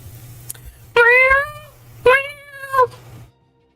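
Two clear, drawn-out cat meows play as a redeemed stream sound effect, each a loud rising-and-falling cry about a second long and separated by a short pause, with a faint hum running underneath.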